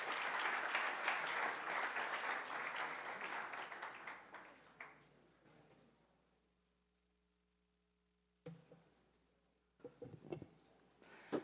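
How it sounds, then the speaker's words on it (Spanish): An audience of civil engineering students at a university symposium gives dense, sustained applause that fades out after about five seconds, leaving a low room hum and a few scattered knocks and handling sounds. "Recibamos con un fuerte aplauso, por favor"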